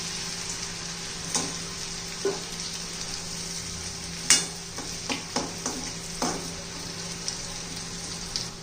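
Rice flour chips fry in hot oil, a soft continuous sizzle close by, broken by a series of light scraping and tapping knocks from a utensil turning them in the pan.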